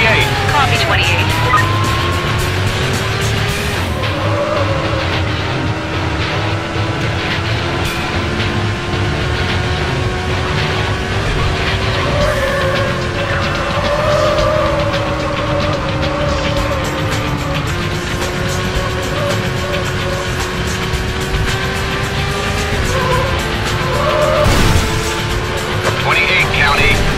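A blue BMW race car roars through a Need for Speed Hot Pursuit 2 race, its engine droning steadily and loudly with shifting pitch and occasional tire squeal, while a police radio voice talks over it.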